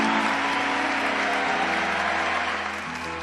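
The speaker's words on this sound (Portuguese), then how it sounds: "Pode aplaudir." A large congregation at a Catholic youth camp gathering applauds, dense, steady clapping filling the space and fading slightly toward the end.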